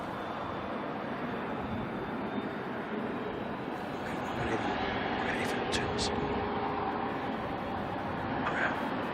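A DHL cargo jet at Auckland Airport spools up its engines during pushback, a broad, distant roar that holds steady and swells a little midway through.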